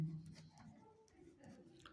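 Pen or pencil writing on paper during a percentage maths lesson, a soft scratchy rubbing with a few brief strokes, close and quiet.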